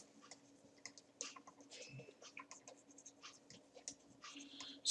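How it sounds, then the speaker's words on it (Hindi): Pen writing a heading by hand on paper during a commerce lecture, a steady run of soft scratchy strokes and small clicks, fairly close and alone over a faint low hum. "मैं हेडिंग लिख रहा हूं"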